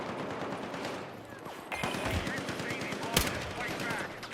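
Bursts of rapid machine gun fire rattle through a Battlefield 6 firefight, a dense stream of close shots with one sharp loud crack near the end, amid game noise.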